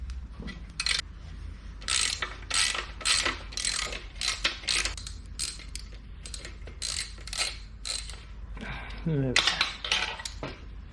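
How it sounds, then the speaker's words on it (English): A ratchet clicks in repeated quick strokes while removing the main swing arm bolt on a Honda CBR250RR MC22 motorcycle, loud, close mechanical ticking in bursts with brief pauses and a small metallic clank near the end. "take off the main swing arm bolt"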